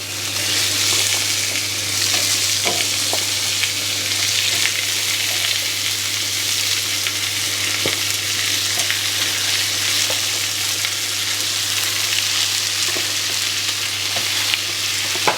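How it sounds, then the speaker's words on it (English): Lamb pieces sear in a hot pan for a Moroccan tagine, giving a steady, close sizzle that runs without a break, with a few faint clicks and stirs on top. No one speaks. "before we cook the second part of our lamb. See, lovely caramelization there."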